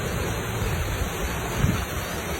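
Steady broadband wind rushing outdoors at a fishing spot, a continuous roar with low gusty rumble and no talk.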